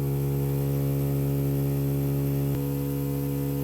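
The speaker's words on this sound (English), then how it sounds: "And with the water level in the collection tank above the low level, both pumps are running." Two water pumps running together in a demonstration pumping station produce a steady, close electrical hum and drone with strong low tonal layers, unbroken apart from a faint click partway through.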